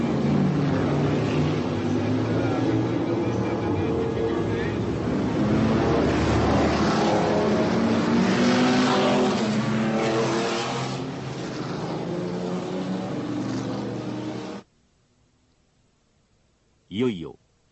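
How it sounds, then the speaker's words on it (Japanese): Mazda RX-7 254 race cars at the 1982 Le Mans 24 Hours roll off in a rolling start, a loud, sustained engine drone that cuts off abruptly and is followed by near silence and one brief burst. "ローリングスタート。"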